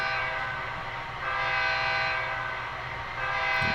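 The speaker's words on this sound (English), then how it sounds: "There's a locomotive powered up." A powered-up model train locomotive on a home layout, down in a canyon section, gives off a steady electrical hum and rumble with faint horn-like tones, holding fairly even throughout with slight swells.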